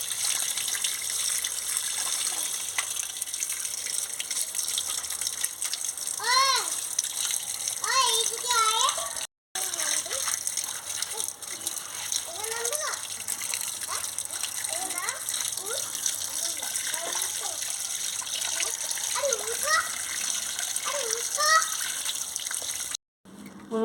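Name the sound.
water running while washing cut fish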